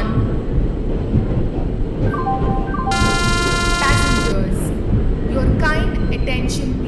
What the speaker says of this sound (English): Passenger Express is arriving at platform number 3.